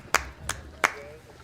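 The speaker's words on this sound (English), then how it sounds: "I'm clapping that as well" Three sharp hand claps, spaced apart, ring out near and fairly loud at a snowboard rail jam finals, with faint background voices between them.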